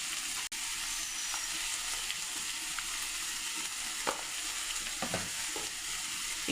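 Spices, chopped onion, green chili and whole cumin fry in hot oil with a steady close sizzle, while a spoon scrapes and stirs through the pan in scattered strokes; one sharp knock sounds near the start.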